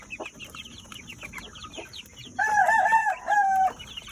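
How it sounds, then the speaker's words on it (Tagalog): Native chickens cluck softly in the background, then a rooster lets out a loud, clear crow near the end. "Saka yung mga native lang na mga chicken. Native manok."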